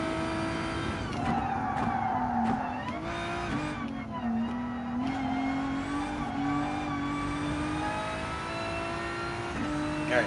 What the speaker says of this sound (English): Oh, you can hear that friggin' exhaust